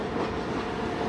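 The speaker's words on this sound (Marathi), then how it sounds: "आता इकडून बघा ट्रेन आली," A train on the Panvel–Karjat railway line rumbles past close by, a loud, continuous rolling roar of wheels on track.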